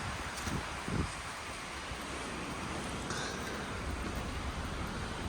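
Steady outdoor wind on a gusty day, roaring as broad, even noise with rough buffeting against the microphone and a couple of stronger gusts early on. No voices.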